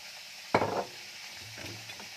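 Fish frying in a pan gives a quiet background sizzle, broken by one sudden loud burst of crackling spatter that fades after a moment.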